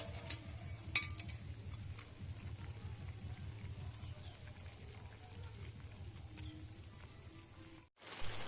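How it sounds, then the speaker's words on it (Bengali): Fried small fish go into a boiling spicy curry, giving a faint, steady bubbling and sizzling simmer with occasional small pops, fading briefly near the end. "ঝোলটা ফুটে উঠেছে, এবার ভেজে রাখা মাছগুলো দিয়ে দেবো।"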